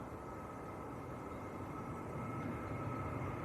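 An Egypt Air airliner bound for Cairo at Manchester Airport produces a steady, distant broadband jet roar that stays even and unbroken throughout.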